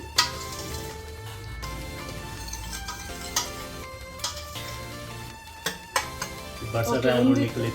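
Spices for mango rasam frying in a pan, a low sizzle running beneath music and voices, punctuated by occasional clanks of a spoon or vessel and a louder burst of sizzling at the end.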